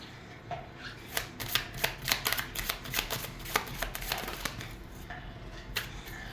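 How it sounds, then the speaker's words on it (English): Oracle cards being shuffled and drawn by hand, a close series of soft papery snaps and flicks in irregular bursts over a quiet room background. "I'm just going to draw you one or two oracle cards"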